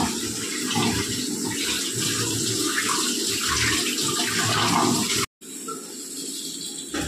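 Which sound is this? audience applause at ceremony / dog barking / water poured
water poured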